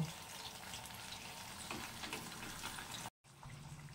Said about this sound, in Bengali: এর ভেতরে আমি একে একে ইলিশ মাছ চারটে দিয়ে দেব।